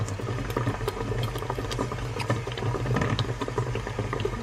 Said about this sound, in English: So this is the python fat melting